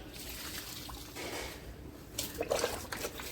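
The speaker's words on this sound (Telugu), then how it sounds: "ఈ జామ చెట్టుకి పోస్తున్నాను" Liquid fertilizer made from leftover dosa batter poured from a mug onto a large guava tree in a big tub, a steady close trickle and splash, with a few brighter spatters toward the end.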